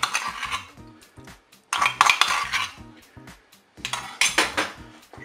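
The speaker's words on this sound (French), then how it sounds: "Je mélange bien sûr." Utensil stirring crème fraîche through food in a Cookeo multicooker pot, with bursts of metallic scraping and clinking against the pot separated by short pauses, close and moderately loud.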